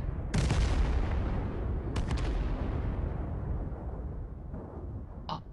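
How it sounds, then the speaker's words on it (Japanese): Gunshots in the battle royale video game Knives Out: a sharp loud report followed by a burst of rapid shots, then rumbling echoes and a faint distant crack near the end, with no talk over them. "あ、銃声。"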